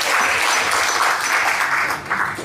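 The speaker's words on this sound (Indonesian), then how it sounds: "Boleh tepuk tangan dulu Ibu dan Bapak." An audience at an Indonesian talk on inner-child healing breaks into loud, steady clapping that fills the room, fading slightly toward the end.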